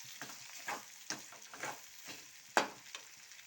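Chana dal and cumin seeds fry in hot oil for onion chutney, a soft steady sizzle broken by scattered crackles and pops, one sharper spit standing out near the end, with no voices.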